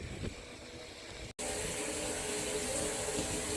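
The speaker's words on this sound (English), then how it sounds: "That is the sound of flowing water" Water running steadily into a water tank on a tower, a continuous broadband wash with a brief dropout near the start, then a full, even rush that stays loud without any voices.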